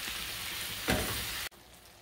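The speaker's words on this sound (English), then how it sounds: "give it a couple stirs" Beef and tomato cooking in a pan for a Chinese-style dish give a soft, steady sizzle with one brief louder stir swish midway before the sound cuts off abruptly.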